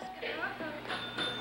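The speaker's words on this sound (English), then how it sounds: "A guest rings the bell, and Harvey has a go at him for ringing it too much." A hotel front-desk bell is rung by a guest in a sitcom scene, giving a few quick dings mixed with voices and studio sound.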